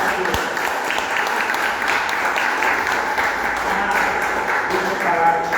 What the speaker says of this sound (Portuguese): aplauda o Senhor recebendo a pastora